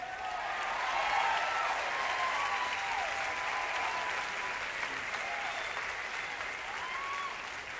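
A crowd at the Savoy in New York City in 1981 applauds a band, sustained full clapping swelling early and then holding steady, with faint whistles or cheers mixed in.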